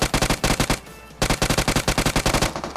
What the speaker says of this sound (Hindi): मेरे को सामने से भी कुछ ज़्यादा ही फायरिंग के साउंड आ रहे थे